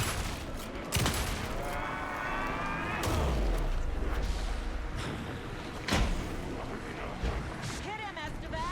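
Bursts of gunfire in the video game Alan Wake 2 crackle and thump amid a chaotic din, with sharp bangs and shouting voices over continuous background noise.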